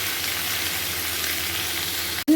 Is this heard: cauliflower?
yes